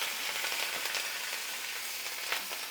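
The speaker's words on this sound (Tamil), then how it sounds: "எல்லாம் போட்டு வறுத்துட்டு" Garlic and curry leaves frying in hot oil for tamarind rice give a steady, close, even sizzle throughout, with faint stirring scrapes and no talking.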